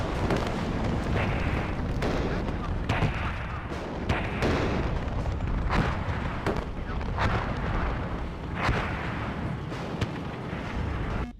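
Rocket barrage explosions in the WARNO real-time strategy game, a dense rolling series of loud booming blasts and rumbling impacts lasting throughout with no pauses.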